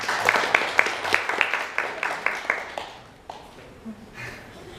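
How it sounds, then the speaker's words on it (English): Toastmasters club audience in Almaty clapping, a scattered round of individual claps that thins out and fades after a few seconds, with faint voices underneath. "let's give round of applause to come"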